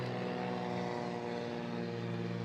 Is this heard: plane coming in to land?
yes